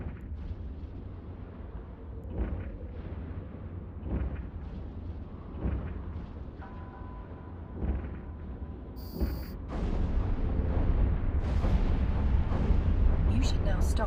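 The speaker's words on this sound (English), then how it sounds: "I suggest you fire your primary weapon." A ship firing its primary weapon in Eve Online, repeated booming shots at regular intervals over a low rumbling drone, building into a denser, louder barrage near the end as a voice speaks over it.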